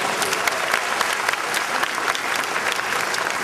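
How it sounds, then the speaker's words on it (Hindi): Sustained applause from a large audience at a university convocation ceremony at BIT Patna, steady dense clapping throughout with no pauses, close and fairly loud. "लोगों की तालियों की गड़गड़ाहट इस बात का संकेत है"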